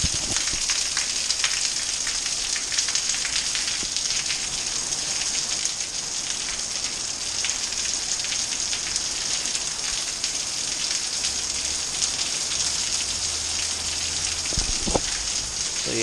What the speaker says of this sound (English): it's been raining like this for, I would say 5 hours now